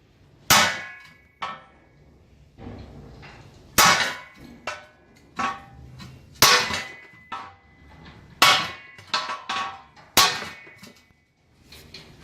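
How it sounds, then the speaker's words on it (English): A hammer strikes a fire pit welded from scrap wheels, sharp ringing metallic clangs landing in irregular single hits and quick clusters, close and loud with brief decays. "I will strike it with a hammer."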